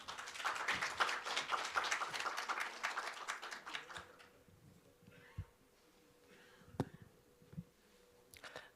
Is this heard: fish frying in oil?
no